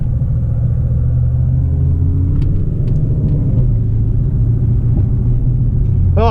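A 2006 Chrysler 300 SRT8 at a quarter-mile drag race, heard as a loud, steady low engine rumble and drone from inside the car, continuous throughout with only faint brief sounds on top.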